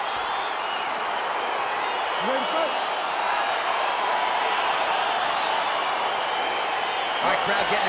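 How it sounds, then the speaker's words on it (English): A virtual arena crowd in a UFC 4 fight cheers and roars as a bout begins, a steady wash of crowd noise with someone talking over it. "crowd getting excited as this fight gets underway"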